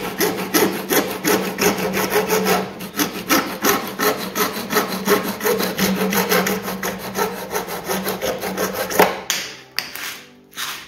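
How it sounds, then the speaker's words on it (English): A small dove saw cuts through plastic pipe into 2¼-inch pieces for a rain barrel system, giving steady, close, rhythmic back-and-forth rasping strokes for about nine seconds, then a few scraping and handling sounds as the cut finishes. "So I'm just gonna start it. And cut my 2¼-inch pieces."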